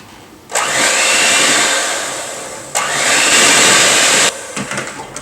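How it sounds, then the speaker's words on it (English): Electric mixer whirring steadily as it blends milk with pudding mix, a loud close motor drone in two long runs with a brief break, then clattering as it stops. "I just finished mixing together the milk and the pudding ingredients"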